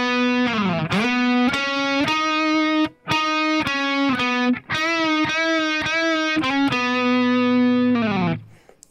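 Distorted electric guitar solo lead for a song, with a string of sustained notes, slides and a few short breaks, loud and close with no talking.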